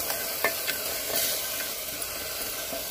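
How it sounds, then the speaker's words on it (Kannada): Water splashes into an aloo methi pulao masala frying in a pan, setting off a loud, close steady sizzle with a few short stirring scrapes; no one talks. "ಈಗ ನಾನು ಒಂದು ಸ್ವಲ್ಪ ಜಾರ್ ತೊಳೆದಿದ್ದ ನೀರನ್ನು ಹಾಕ್ತಾ ಇದ್ದೀನಿ"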